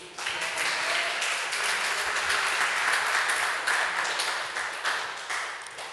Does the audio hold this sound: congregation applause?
yes